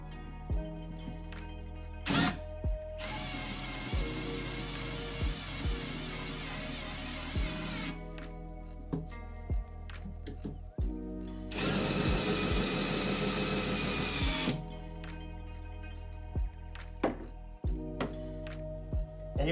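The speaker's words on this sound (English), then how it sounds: "I prefer to use the power tool." A power drill drives a screw into the back of an aquarium planting tank in two sustained whirring bursts, with short clicks and taps between them, close and alone with no talk.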